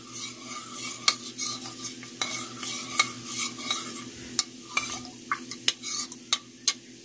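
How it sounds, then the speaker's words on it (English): Frozen chicken strips frying in a pan with a steady low sizzle, while a utensil stirs and scrapes, giving a series of sharp clinks against the pan that grow more frequent toward the end. "Let's give it a quick stir."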